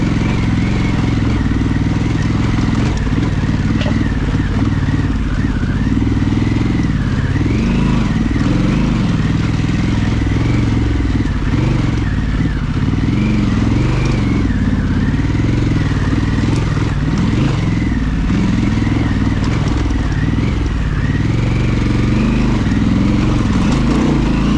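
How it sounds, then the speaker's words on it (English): A Harley-Davidson Pan America motorcycle crawling over gnarly rocky off-road terrain, its engine held at a steady, loud throttle throughout, with rattling and clatter from the rough ground mixed in. "You hear how steady I am on the throttle."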